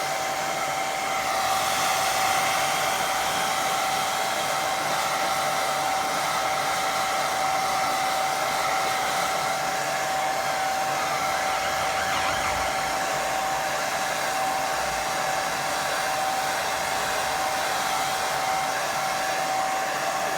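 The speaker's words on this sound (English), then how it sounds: "Dry it on a low speed so it don't blow my paint everywhere." A hair dryer blows steadily on low speed over a watercolour lake painting, a constant close whooshing drone that carries on for the whole stretch with no voices.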